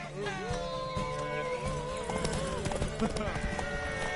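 Horse hooves clip-clopping in the video game Witcher 3, steady rhythmic hoofbeats up close, mixed with game music and a horse's whinny, with people talking over them.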